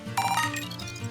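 A phone rings briefly in the Pokemon Scarlet video game, a short bright electronic ringtone burst over soft background music.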